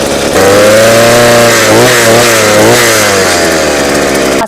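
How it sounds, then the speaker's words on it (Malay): A petrol auger machine's small engine roars into life close by, a loud, buzzing two-stroke drone that rises and wavers in pitch mid-way before cutting off abruptly. "Sekarang aku akan cuba hidupkan mesin"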